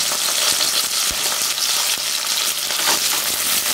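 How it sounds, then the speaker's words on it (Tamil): Whole peeled garlic cloves fry in a pan for a garlic and shallot chutney, a steady loud crackling sizzle with scattered pops throughout. "இப்போது நான் பூண்டு ஆட் பண்ணிக்கிறேன்."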